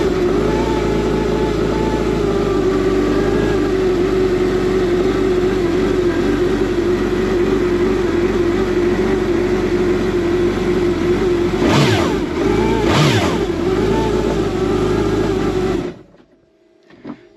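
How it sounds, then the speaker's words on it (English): A Kawasaki Ultra jet ski engine idles loud and close with a steady droning rumble, then two quick throttle blips rise and fall near the end before the engine cuts off abruptly. "So we allowed the ski to idle for about 10 seconds. We gave it a blip of the throttle"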